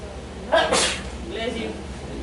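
One sharp sneeze bursts out indoors in a classroom, a quick loud snap-like exhale that fades within a second, with faint room noise around it.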